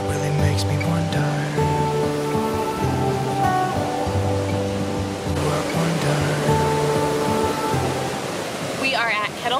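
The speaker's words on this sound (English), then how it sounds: "You may be able to hear the sound of the water behind" Water rushes continuously at Kettle Falls Dam in Voyageurs National Park, a broad steady roar with a low droning hum beneath it and faint voices near the end.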